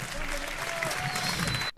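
A crowd at a rap battle applauds loudly and continuously, close and dense, before the sound cuts off sharply at the end.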